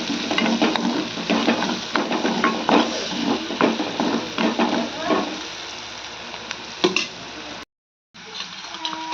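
Steady oily sizzling of baby potatoes frying in a pan with salt and turmeric, with occasional stirring scrapes and taps, close and continuous before a brief cut.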